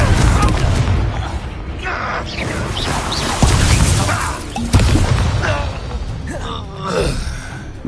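A Confringo blasting spell goes off in the Hogwarts Legacy video game, with booming explosive blasts and whooshes in a busy fight. A few sharp hits stand out over a dense, loud background of battle noise.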